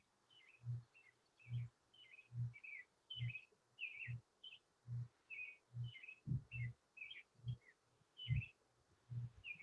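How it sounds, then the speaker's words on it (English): A bird sings outdoors in nearby trees, a steady series of short, bright chirping phrases repeating about every half second, fairly close and clear, with a low rhythmic thump under each note and no talking. "Is that bird in your place, Walter?"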